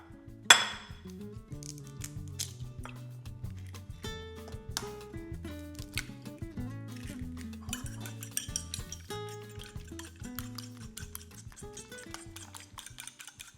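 A utensil whisks eggs in a bowl with rapid, rhythmic clinking and scraping that continues steadily throughout, close and clear.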